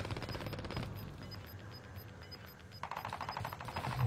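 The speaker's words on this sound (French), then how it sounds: "Ah, ça tire là-bas là?" Gunfire in the video game Call of Duty Warzone Resurgence, quiet bursts of rapid automatic shots in the background, fairly distant and continuous with a louder stretch near the end.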